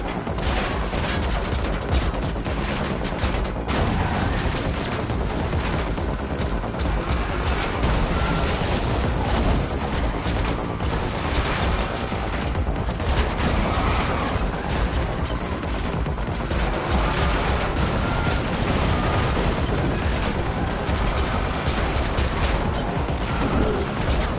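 Dense gunfire in a car-chase scene of The Matrix Awakens on Unreal Engine 5 rattles continuously, rapid loud shots layered with mechanical clatter and booms over a constant engine roar.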